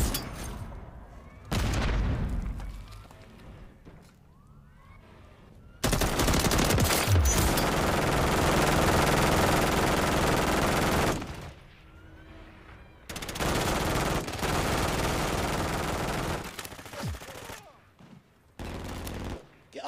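Bursts of rapid automatic gunfire and explosions from Modern Warfare 3 multiplayer come in long loud sustained volleys, separated by quieter gaps with faint game sounds and some talk.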